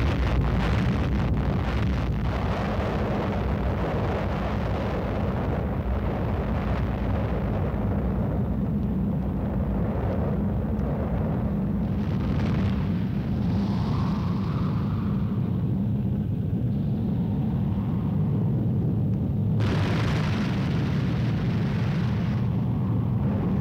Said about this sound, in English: Have experienced their first atomic explosion